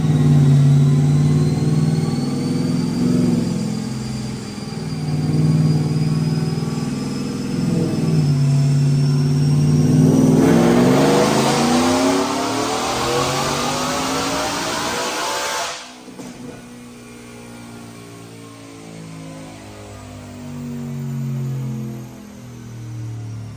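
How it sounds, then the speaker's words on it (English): A Whipple-supercharged E85 Ford truck engine with long-tube headers and a 10-rib drive winds up hard on a dyno, rising to a loud full-throttle roar, then drops off and settles into a rumbling idle. "Check out this dyno pull."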